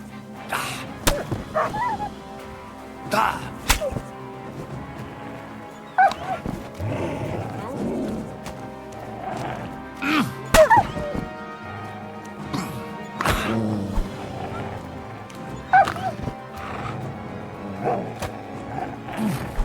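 A dog in the medieval video game Kingdom Come Deliverance II barks and yips in scattered short bursts, mixed with game ambience and spoken voices.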